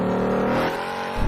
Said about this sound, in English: And the noise from the engine.